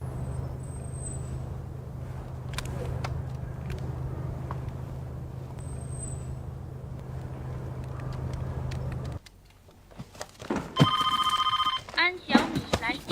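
A mobile phone rings with an incoming call in a drama scene, an electronic ringtone chiming near the end after a stretch of low background hum, with people talking around it.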